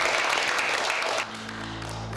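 An audience at a comedy open mic gives a short burst of applause that fades after about a second into a low room hum.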